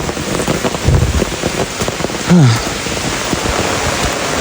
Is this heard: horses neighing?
no